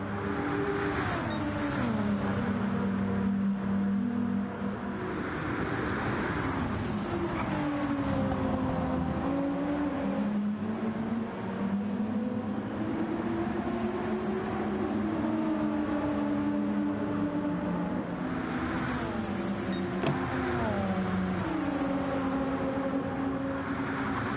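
Race cars in an endurance video-game race drone steadily close by, engine pitch rising and falling through gear changes with brief revving swells, continuous and fairly loud with no talk.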